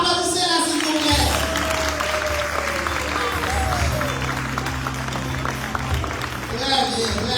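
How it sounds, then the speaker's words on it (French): Dense, continuous applause from a crowd in an Adventist church for the bride at a wedding rehearsal, steady and fairly loud, with voices and a low musical drone running through it. "Applaudissez-la s'il vous plaît."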